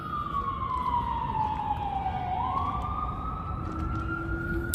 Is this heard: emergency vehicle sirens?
yes